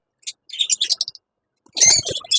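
Caged pet birds chirp in short, sharp bursts: a scattered run of quick tweets, a brief pause, then a denser cluster of calls, fairly close and with no talk.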